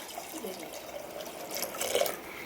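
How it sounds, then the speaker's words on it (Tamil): Rice-mixed water poured into a pressure cooker in a home kitchen, a steady close watery rush with faint dripping that swells louder near the end. "நம்ம அரிசி கலந்த தண்ணியை அதுல ஊத்திக்கலாம்."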